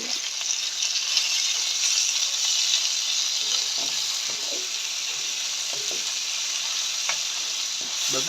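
Onions, curry chillies and lentils stirring and frying in a pan for a Jaffna-style fried fish curry, a steady bright sizzle with scraping spoon strokes scattered throughout, close and continuous.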